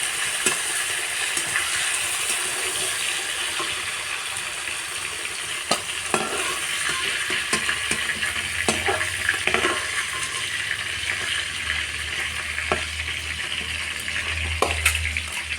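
Fish sizzles steadily in a pan of oil, a close, continuous frying hiss dotted with irregular pops and spatters, while a low hum joins in partway through.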